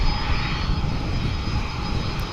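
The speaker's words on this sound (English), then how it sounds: "But this is the newer variant, the MD-11." McDonnell Douglas MD-11 jet airliner at Dallas/Fort Worth International Airport, a steady broadband engine roar that holds loud and even throughout with no voices.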